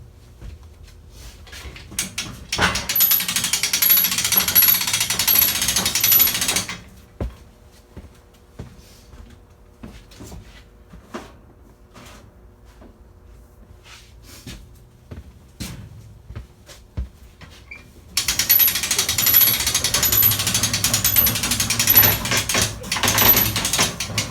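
A homemade winch hauls a Cub Cadet 129 lawn tractor upward, giving two loud, sustained bursts of mechanical grinding and whirring separated by a quieter stretch of about ten seconds.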